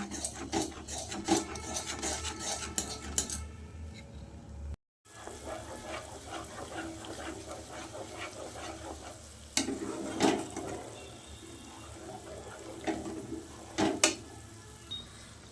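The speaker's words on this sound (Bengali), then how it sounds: "বাটারটা এবার গলতে শুরু করেছে এবার এটাকে অনবরত নাড়তে হবে" Butter from milk cream melting into ghee in a pan, stirred constantly with a spoon, giving close rasping scrapes and occasional sharper knocks over a low bubbling hiss, with a brief silent break partway through.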